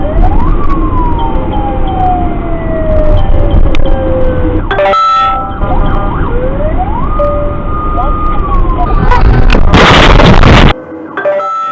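Wailing ambulance siren from a private ambulance racing through city streets with lights on toward a hospital, its rising and falling sweeps loud and close, cut by an abrupt crash-like burst near the end before the siren resumes.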